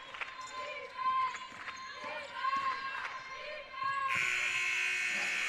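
A loud, sustained electronic buzzer ends the first half of a women's basketball game, following bouncing balls and sneaker squeaks in a gym with crowd noise.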